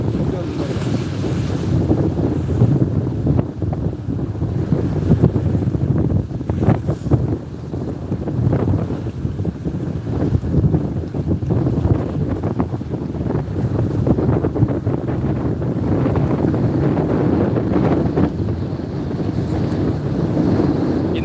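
Strong coastal wind buffets the microphone while waves surge and wash against a jetty in rainy-season weather, a loud, continuous roar that stays steady throughout with no voices.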